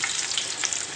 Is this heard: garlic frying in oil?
yes